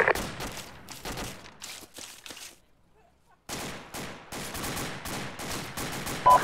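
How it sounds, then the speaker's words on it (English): Gunfire in Arma 2 in a forest and crag setting: repeated rapid bursts of automatic fire rattle off, fall silent for about a second, then pick up again in a dense stream of shots. "I hear fire to the north."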